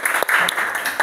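Brief burst of classroom applause, many hands clapping loosely together for about a second right after students finish a song.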